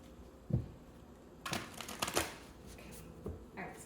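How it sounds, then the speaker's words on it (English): Tarot cards being shuffled in quick riffling bursts, a soft tap, then a longer flurry of crisp flicking and a final short riffle, close up with no talking. "One more shuffle."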